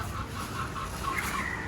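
A large hen clucks steadily and close by, a continuous run of low throaty calls with a few brighter squawks near the end, over a dense outdoor background.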